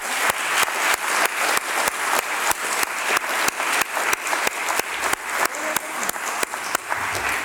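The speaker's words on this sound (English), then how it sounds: "please join me in giving a round of applause to the three speakers" A conference audience applauds three panel speakers after an ocean law session: a full round of crowd clapping with a regular pulsing rhythm of sharp accented claps, sustained at even loudness.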